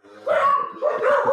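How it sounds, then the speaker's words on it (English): A dog gives two short, close barks, loud and alone, with a whimpering edge to each. "I actually thought it was my dog"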